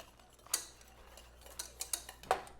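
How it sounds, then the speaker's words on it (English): A whisk taps and clicks against a bowl while kuzu is stirred into a vegan strawberry panna cotta mixture. The metallic ticks are faint and scattered, a few sharp strokes over a quiet kitchen background. "I'm going to add the kuzu while I'm whisking."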